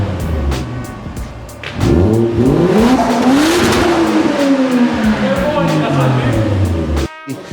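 A Toyota Crown's 1JZ inline-six engine revs hard out on a street, climbing and falling through several loud, sweeping rises in pitch after a brief low idle, with voices close by, then cuts off abruptly near the end.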